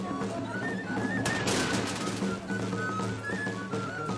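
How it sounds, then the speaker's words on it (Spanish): Rockets burst in a rapid, crackling barrage at the carantoña festival, loud and continuous, mixed with a tamboril drum and flute melody playing throughout. "el estruendo de cohetes"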